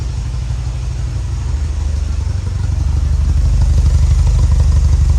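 A Porsche 924 2.0 automatic idles close by on a cold day, a deep, even rumble with a slight pulsing throb that grows a little louder toward the end.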